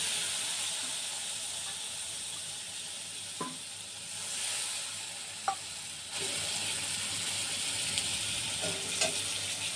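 Ginger paste and spices sizzle steadily in a hot pan, a continuous frying hiss with a few soft clinks of stirring, with no talk.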